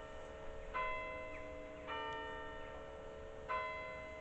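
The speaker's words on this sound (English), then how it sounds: "And the bell rings." The bell of St. Luke's, Sheen, an English country church, tolls three times at even intervals. Each ringing strike is followed by a sustained tone that hangs over faint outdoor background noise.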